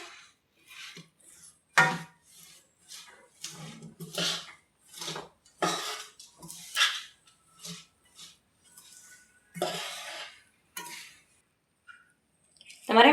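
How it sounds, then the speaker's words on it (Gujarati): Puffed rice is stirred into melted jaggery in a pan for mamra ladoos, making a series of irregular scraping and rustling bursts with short pauses between strokes, close and fairly loud, with a voice heard at times. "આપણે નાખતા જાવું થોડા મમરા અને હલાવતા જાવું અને મિક્સ કરી લેશું."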